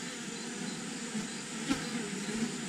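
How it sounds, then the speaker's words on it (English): Honey bees hum steadily at a backyard hive from which new bees are emerging, a continuous low buzzing drone, fairly faint and even throughout. "the new bees are being emerging from their comb, and they're doing their various jobs"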